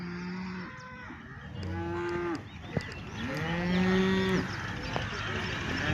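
Several long, deep cow moos, one after another, fairly close, with a low background at the Loni cattle market.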